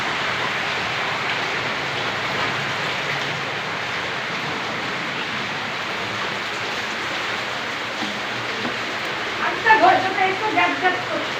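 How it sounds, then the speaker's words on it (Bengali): Steady rain pours down outdoors where water has pooled, a continuous broadband hiss that stays even throughout, with a voice and a few brief clatters rising over it near the end. "বৃষ্টি হচ্ছে"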